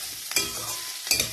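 Vegetables, peas and carrot among them, stir-fry in a pan for egg fried rice: a steady close sizzle with two sharp scraping strokes of a spatula, and no voices.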